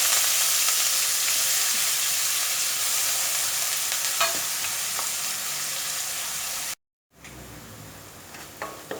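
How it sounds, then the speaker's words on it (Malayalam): Sliced onions sauté in hot oil with bay leaf and cloves in a pan, a loud, steady sizzle with faint stirring taps that cuts to brief silence and resumes more quietly. "ഇനി ഇതിലേക്ക് നമുക്ക് സവാള ചേർക്കാം."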